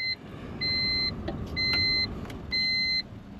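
A key goes into the ignition of a 2000 Honda Civic, setting off three sustained electronic reminder chimes separated by short gaps, with a few faint clicks in between inside the quiet cabin.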